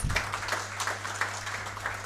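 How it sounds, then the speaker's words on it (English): Applause from a crowd, steady and continuous, with a low constant hum underneath and faint clapping bursts throughout. "Everyone give them a round of applause, please."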